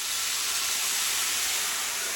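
Soy sauce hitting a hot pan with tempeh bacon, giving off a loud, steady, broadband sizzle and steam hiss that holds evenly the whole time, close up and without speech.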